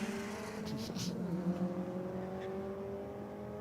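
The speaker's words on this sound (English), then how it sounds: "the beautiful looking R34 out now in the rocket lane, taking on this very quick WRX" A Nissan Skyline R34 and a Subaru WRX in a drag race, heard from a distance as faint engine revs with a tonal whine that rises and shifts, plus a brief higher roar, with no voices.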